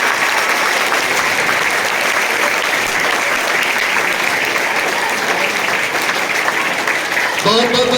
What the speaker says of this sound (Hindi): विद्यालय में जोरदार तालियों की स्वागत कर दीजिए।